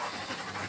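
A male rottweiler pants in quick, rhythmic breaths close by, a short burst of breathy huffs.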